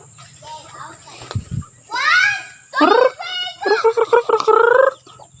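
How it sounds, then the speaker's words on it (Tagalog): Chickens, including newly hatched ones, cluck and call in a series of loud, close bursts, with a brief thump partway through and faint background noise. "ito yung napisa namin guys oh manok"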